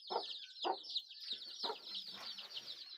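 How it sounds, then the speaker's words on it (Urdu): A backyard hen clucks in short repeated bursts, close and clear, over a steady high-pitched chorus of chicks cheeping throughout. "یہ ہمارا مرغی ہے ماشاءاللہ"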